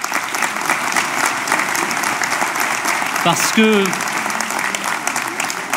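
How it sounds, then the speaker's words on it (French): An audience at a mayor's New Year address in Cusset applauds with steady, dense clapping throughout, while someone speaks briefly over it near the middle. "vous pouvez eux aussi les applaudir"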